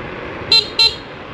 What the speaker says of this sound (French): Oh là là, il se klaxonne